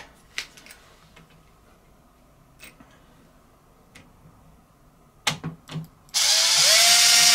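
A power drill cuts threads into a new Traxxas XO-1 part, a loud sustained whir after several seconds of scattered clicks and clatters from handling tools and parts, close and without talk.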